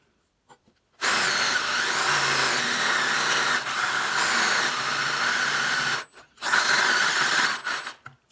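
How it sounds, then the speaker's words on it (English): An electric drill boring through metal whines loudly and steadily for about five seconds, stops briefly, then runs again in a shorter burst before cutting off. "I want to show you what it looks like as I drill this thing"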